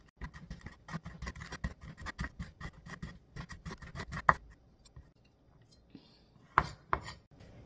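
Knife thinly slicing food on a cutting board while making white kimchi, with a rapid run of crisp, even taps that stops halfway, followed by a pause and a couple of isolated clicks, fairly quiet and close.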